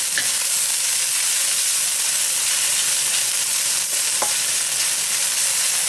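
Chicken and vegetable stir-fry with pineapple and garlic sizzles steadily in plenty of hot oil, a loud continuous frying hiss with a few brief crackles and pops, close by and with no voices.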